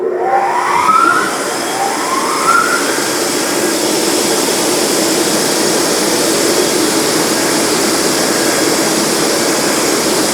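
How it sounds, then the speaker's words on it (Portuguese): A vacuum hold-down system on a woodworking machine runs as a loud, steady whooshing hiss, preceded at the start by a couple of rising whine sweeps as it spins up, with no talk. "Vou só ligar o vácuo aqui um pouco para vocês verem que assim ela já consegue segurar muito bem essa peça."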